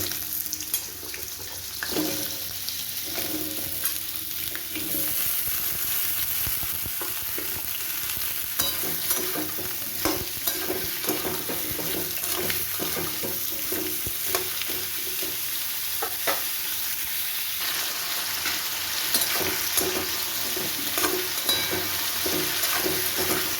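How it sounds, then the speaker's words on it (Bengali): Potatoes frying in oil in a wok for an okra and potato curry, giving a steady close sizzle broken by repeated spatula stirs and scrapes. "এবার তেলের মধ্যে আলুগুলোকেও ভালো করে ভেজে নেব।"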